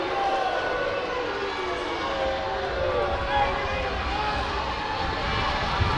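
A basketball crowd at a regional 2A high school semifinal between Santa Maria and Normangee roars in steady disapproval of a foul call, a dense, unbroken wall of voices that holds at the same loud level throughout.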